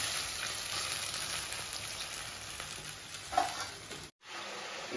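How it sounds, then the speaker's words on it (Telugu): Boiled chicken pieces fry in a pan with a continuous close sizzle and occasional stirring, steady throughout until a brief cut near the end. "ఇది ఫ్రై అవుతా ఉంది కదా. చికెన్ మనకి ఫ్రై కదా, ఇది బాగా ఫ్రై అవ్వాలి."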